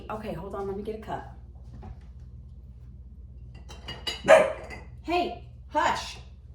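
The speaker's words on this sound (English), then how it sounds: "Guys, stop barking." A voice speaks briefly, then dogs bark several times in short, sharp bursts close by over a low background hum.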